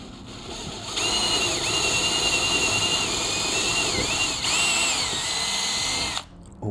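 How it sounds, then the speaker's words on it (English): A power drill whines steadily at high speed for several seconds, drilling for carbon endplates on an Integra, pitch dipping briefly under load, then cuts off abruptly; close and loud. "So yeah, we're just gonna drill this."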